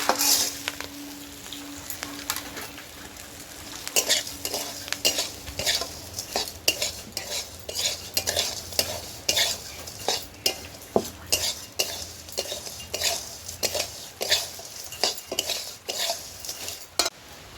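Fried ingredients for flattened rice chanachur stirred in a pan, a spatula scraping and clinking repeatedly in an irregular rhythm over a soft background hiss, close and fairly loud with no talking.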